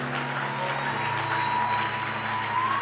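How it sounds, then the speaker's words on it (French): Congregation at a Christian worship service clapping steadily, a dense continuous wash of applause heard alone, with a low sustained musical tone underneath. "Can someone clap for the Lord?"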